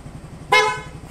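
A loud aftermarket horn on a Honda Fazzio scooter gives a single strong, steady honk of about a third of a second, close by, over a low idling rumble.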